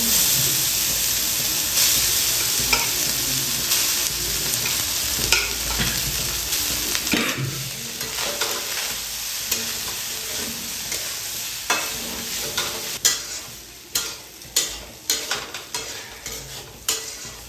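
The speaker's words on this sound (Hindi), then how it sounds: "अब देखिए दोस्तों, हमारा जा रहा है चावल।" Rice for egg fried rice sizzles and fries steadily in a hot pan with tomato, stirred with a spatula that scrapes and clatters in irregular bursts, growing louder toward the end; no voices.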